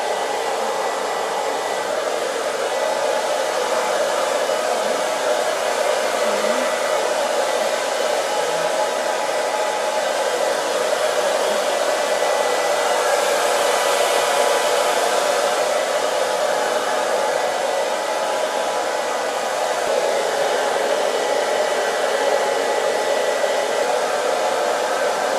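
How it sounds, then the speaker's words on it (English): An old hair dryer blows on hair rollers with a steady, loud whooshing hum that runs unbroken and alone the whole time. "I have this old ratchet hair dryer that I'm going to use."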